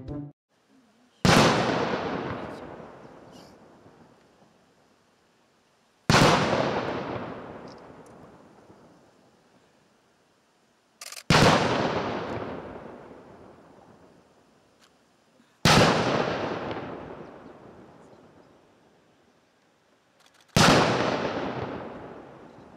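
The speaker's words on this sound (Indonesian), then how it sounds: "tiba-tiba dentuman meriam sebanyak 6 kali menggelegar di lingkungan" Ceremonial cannon fire booms through a palace ground in a salute, five loud blasts spaced about five seconds apart, each with a sharp crack and a long echoing decay, clear and close with no talk over them.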